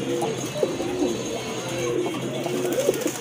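Pigeons from a breeding master pair coo in a steady, throaty series of low, rolling calls, close by and continuous over a faint background hum.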